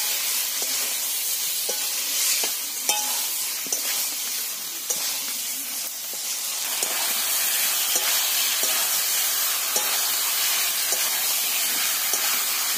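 Potatoes and bottle gourd, fried earlier, sizzle in hot spiced oil, with a steady close hiss and the occasional scrape or tap of a spatula stirring the pan.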